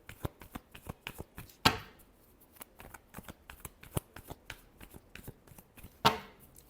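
Tarot cards are shuffled by hand in a quick run of soft riffling ticks, with two louder bridge-style riffles standing out, close and clear with no talk.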